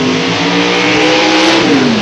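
A Pro Modified drag racing car, an LE Chassis Engineering Camaro, revs its engine at a 1992 Labour Day event at London Motorsports Park, a loud continuous roar with a droning tone that drops slightly at the end.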